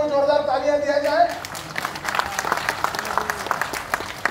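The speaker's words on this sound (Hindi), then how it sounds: "जोरदार तालियां दिया जाए" A voice speaks briefly, then a crowd breaks into loud, sustained applause with scattered individual claps.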